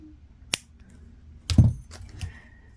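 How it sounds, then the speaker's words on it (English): Jewelry wire is cut with small cutters while making wire-wrapped jade bead earrings, giving a sharp click, then a louder clattering burst of snipping and metal handling, close and brief. "And then I'm going to snip that wire off"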